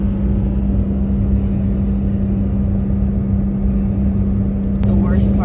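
A car on the drive to the start of a long run, heard from inside as a steady engine drone and road rumble that stays constant and close throughout.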